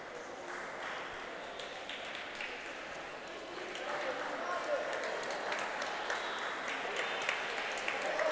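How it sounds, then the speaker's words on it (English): Spectators cheering and clapping for a Stoughton swimmer during a high school swim meet on senior night, a steady indoor crowd din that swells partway through, with an announcer talking over it. "The Stoughton swimmer starting to get a lot of encouragement from the crowd."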